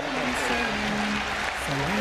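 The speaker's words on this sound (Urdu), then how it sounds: "ڈاکٹر ذاکر نائک صاحب کا بھرپور تالیوں میں استقبال کیجیے" Audience at a Governor House gathering in Pakistan applauding to welcome Dr Zakir Naik, a continuous even wash of clapping with a sustained tone underneath.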